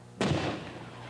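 A staged stunt explosion at a 1987 Hollywood stunt show in Ashland, Ohio, erupts as one sudden loud boom after a quiet moment, then rolls into a long, decaying rumble and crackle.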